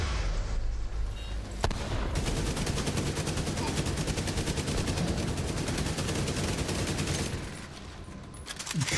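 Sustained automatic gunfire rattles almost nonstop in The Division, loud and close, with dense overlapping bursts that thin out near the end before picking up again.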